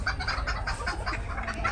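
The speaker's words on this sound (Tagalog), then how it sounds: "Ang lalaki ng mga manok dito, guys." Bantam chickens cluck in a dense, steady chorus among many birds, close and continuous over a low background rumble.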